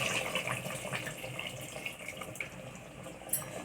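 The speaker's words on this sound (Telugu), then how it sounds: "ఇప్పుడు ఇందులోనే ఈ వేడి వాటర్ వేసుకున్నాం." Hot water is poured over country chicken in a robot cooker, giving a steady close splashing pour with no talk.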